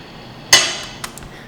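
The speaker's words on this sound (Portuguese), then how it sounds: "eu bati a claquete justamente para poder fazer esse processo de sincronismo de som" A film clapperboard slate snapped shut for sound sync gives one sharp, close, loud crack, followed by a couple of faint small ticks in an otherwise quiet room.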